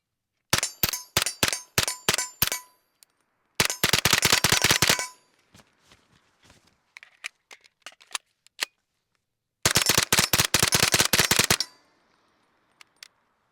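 Suppressed CZ Scorpion firing with a binary trigger: three close, loud bursts of rapid shots, each a dense run of sharp reports, with faint clinks and handling sounds in the quiet gaps between.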